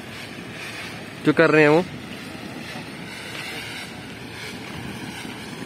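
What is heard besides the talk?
water being sprayed onto tunnel wall at rail construction site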